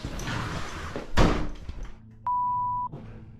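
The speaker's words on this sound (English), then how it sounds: "The door closed by itself." A door swings shut on its own with a single solid thud inside a camping spot, followed by a steady electronic tone and then quiet.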